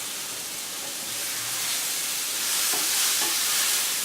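Mushrooms fry in a pan with a steady, dense sizzle that swells slightly louder toward the end, close-up, with a few faint clinks and no talking.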